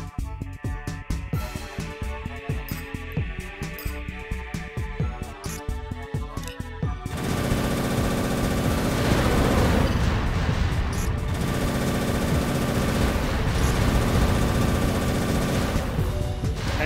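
Sustained rapid gunfire and explosions from the mech combat game Armored Core 3, loud and dense with a heavy rumbling barrage that swells and continues after a stretch of music and sharp shots.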